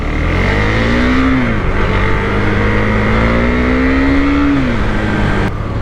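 A Husqvarna 401 Svartpilen motorcycle accelerates steadily, its engine note rising through a long pull, dipping briefly and climbing again in a loud, close, continuous drone with no talk.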